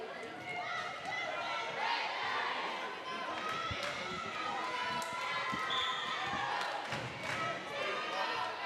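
A crowd of fans chants and cheers steadily through a high school volleyball match between Wakefield and Beverly, loud and continuous with sharp thumps from play and talk mixed in.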